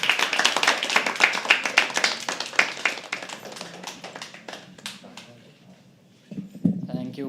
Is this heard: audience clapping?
yes